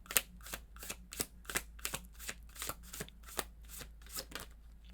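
Tarot cards are shuffled and drawn in quick, close, papery riffles and snaps, repeating in an uneven rhythm over a faint low background hum.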